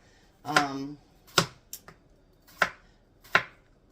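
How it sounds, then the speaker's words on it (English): A knife slices through cucumbers on a cutting board, giving about six crisp, close cuts at an uneven pace, with a brief vocal sound near the start. "Tom says he's got about 12 cucumbers left. So I figure I'll slice up for him and for our salad"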